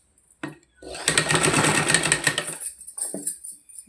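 A sewing machine stitches a blouse in a short whirring burst of about a second and a half, bracketed by a few brief clicks and handling sounds, with a voice heard faintly at moments.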